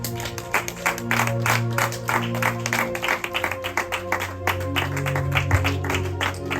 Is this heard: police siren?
no